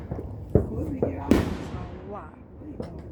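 Fourth of July fireworks pop and bang in a few sharp bursts, one louder crackling blast in the middle, with people talking nearby throughout.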